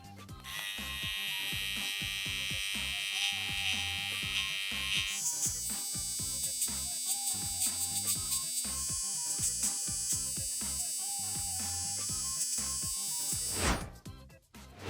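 A Trim Buddy electric trimmer buzzes steadily as it trims a mustache and beard, close and continuous for the whole stretch, its pitch shifting as it moves, before cutting off near the end; no talking.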